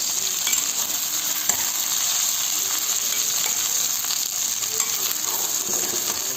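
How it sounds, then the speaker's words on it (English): Okra, or lady fingers, frying in hot oil in a pan for a bhendi bhuna dish, a steady dense sizzle with faint crackles running continuously, close and fairly loud, with no voices. "So what we're going to do, we're going to fry that in oil now."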